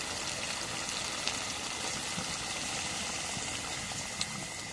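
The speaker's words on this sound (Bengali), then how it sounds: "এখন জলের পানি দিয়ে দিই।" Beef curry with potatoes simmers in a pot after water is added, a soft steady bubbling hiss with a couple of faint clicks, quiet and without talk.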